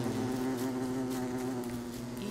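Bees buzz in the survival video game Don't Starve, a steady droning hum with layered tones that holds throughout, close and even, with no speech.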